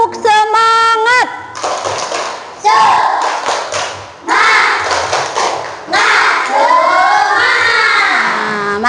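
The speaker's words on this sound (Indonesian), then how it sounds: "tepuk semangat" Schoolchildren in a classroom doing a spirit clap, with rhythmic hand claps and thumps woven between loud chanted and shouted children's voices in short patterned bursts.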